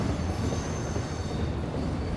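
An East Coast mainline train pulls out of a station, a steady loud rumble of wheels and carriages with faint high squeal, continuous and close with no talking.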